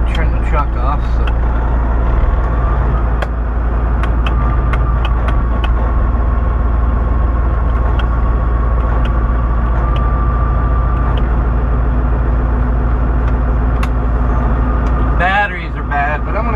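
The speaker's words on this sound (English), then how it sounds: "we can't turn the truck off" A semi truck left idling with bad batteries, its engine a loud, steady low rumble that fills the whole stretch, with faint clanks and traffic noise over it and a brief rustle near the end.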